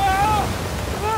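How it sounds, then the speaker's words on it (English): A waterfall in the Uncharted 4 video game roars as a steady, loud, broadband rush of water, with a raised voice shouting over it at the start and near the end. "Waterfall!"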